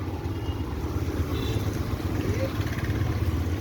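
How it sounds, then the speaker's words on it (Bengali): Busy road traffic with auto-rickshaws and bikes passing in a jam: a steady, close engine rumble and wind buffeting that fill the whole stretch, with one short horn-like tone partway through. "সামনে অনেক অটো আসছে"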